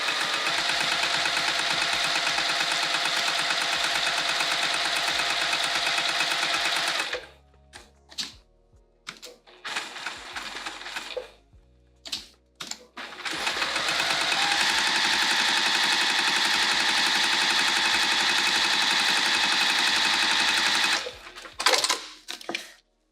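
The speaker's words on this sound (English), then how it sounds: "we're gonna sew this down so it's permanent" A sewing machine stitches down a fabric piece for a Rosetta bag, running steadily and loudly for several seconds, pausing briefly with small clicks and handling, then running again in a long continuous burst before stopping.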